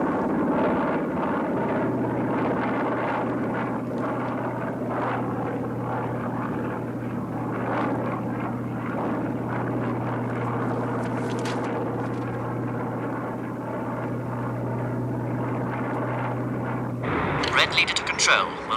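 A propeller aircraft drones steadily at about 5,000 feet in a steady, loud engine hum that runs alongside radio talk before a sharp burst near the end.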